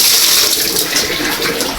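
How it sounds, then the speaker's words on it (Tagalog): Tap water pours steadily into a drum for washed piglets, a continuous close hiss and splash with no talking. "Dito naman, lalagyan na tayo ng tubig sa drum."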